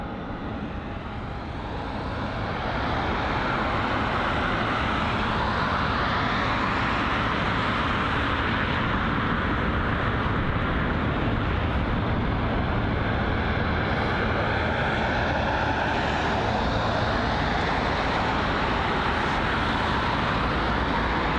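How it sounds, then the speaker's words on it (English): A British Airways Airbus A320-200 arriving at London Heathrow from Belfast, a steady loud broadband jet roar that swells over the first seconds and holds close and constant, with no voices over it. "So this here, the A320-200, operated by British Airways, arriving from Belfast."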